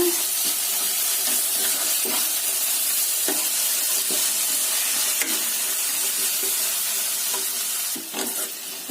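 Vegetables for veg Maggi being stirred and tossed in a sizzling pan, a steady frying hiss with intermittent scraping and clinking of the spoon, close and alone.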